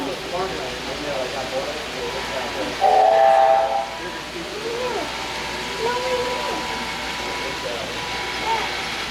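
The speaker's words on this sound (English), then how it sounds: "Looks like we got a couple trains." Model trains running on a museum layout, with a whistle-like tone rising briefly near the middle over steady rolling rumble and squealing wheel tones, while people talk nearby.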